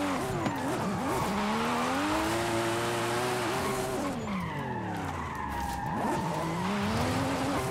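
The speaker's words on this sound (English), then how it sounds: "Gotta keep throwing the car back and forth both ways." A Toyota Supra FD drifts downhill on a mountain road in Forza Horizon 5, its tires squealing in long wavering skids while the engine revs rise and fall, continuous and loud throughout.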